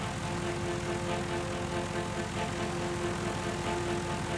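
A ULM microlight aircraft engine drones steadily in flight, a loud continuous tonal hum with a propeller buzz that holds constant throughout, no voices over it.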